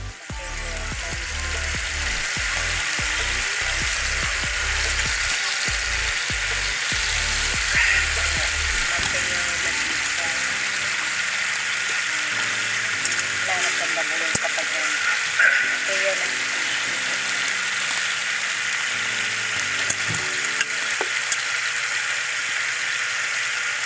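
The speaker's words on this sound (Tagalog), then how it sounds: "Stir fry muna tayo ng chicken." Chicken stir-frying in a pan toward golden brown gives a steady broad sizzle, with clattery stirring and low thumps in the first seconds before settling into continuous frying.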